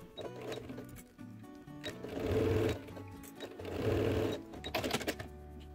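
A sewing machine runs a straight seam on a transparent plastic pocket piece with stitch length set to 5, the motor humming in two steady bursts separated by brief pauses, close and fairly loud.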